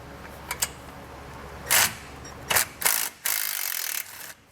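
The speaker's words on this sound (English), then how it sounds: "I'm going to pull this bolt out using a 13mm socket" A ratchet with a 13mm socket turns a bolt out near the brake line on a 2021 Chevrolet, heard as a few faint clicks and then several short bursts of ratcheting, close by and without speech.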